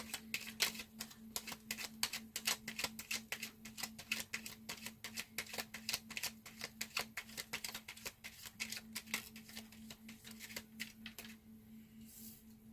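Tarot cards are shuffled close up with a quiet, rapid crisp riffling and tapping that runs steadily for several seconds, then thins out at the end.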